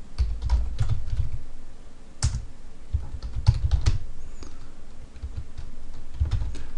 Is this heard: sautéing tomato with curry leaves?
no